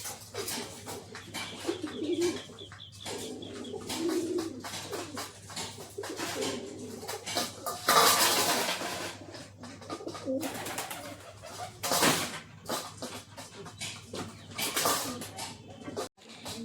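Pigeons, among them a young one, cooing at close range in a soft, repeated rhythm, with wing flutters and shuffling noise mixed in.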